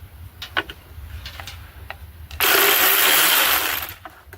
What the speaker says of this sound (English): I'm just gonna use my power tool to take them off real quick